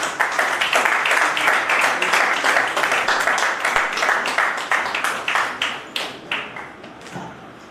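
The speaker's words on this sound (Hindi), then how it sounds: "जोरदार तालियां बजाइए भाई सिद्धांत कुलश्रेष्ठ जी के लिए" A literary poetry-recitation gathering in Delhi claps for a poet, a loud, rhythmic burst of many hands that thins into a few scattered, separate claps as it fades.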